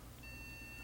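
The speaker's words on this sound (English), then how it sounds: "beeping noises in general are not good" Steady high electronic beeps ring out from a computer failing to start, against a low hum, with a short louder blip near the end.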